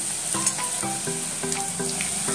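Potatoes with their thin skins left on go into onions frying until reddish in a pan, giving a steady close sizzle with intermittent stirring scrapes and clinks throughout, no voices.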